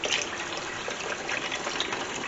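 Liquid pours in a steady, smooth stream for a couple of seconds, a continuous splashing gush close by with no voices.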